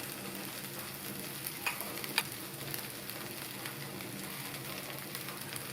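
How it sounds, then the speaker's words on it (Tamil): Okra stir-frying in a pan with ground roasted spice powder makes a steady close sizzle. A few faint scrapes and taps of stirring sit over an even frying hiss. "பவுடரை சேர்த்துட்டு நல்லா மிக்ஸ் பண்ணி விட்டுறலாம்"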